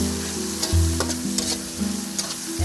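Onions and whole garlic cloves fry in oil for chicken khichuri, making a close, continuous sizzle broken by the scrape and knock of a spoon stirring in the pot.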